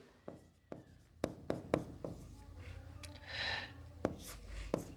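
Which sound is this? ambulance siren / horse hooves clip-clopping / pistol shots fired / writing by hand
writing by hand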